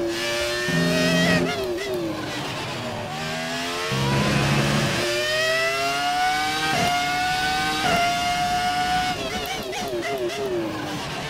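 Formula 1 car engine in the F1 2018 racing game, a high-pitched whining drone climbing through repeated gear changes with sharp dips between shifts, steady and loud with no talking.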